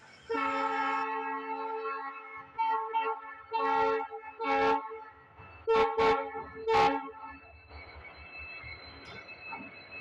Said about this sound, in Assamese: এইখন শিলিগুৰি ট্ৰেইন হয় তো আহি আছে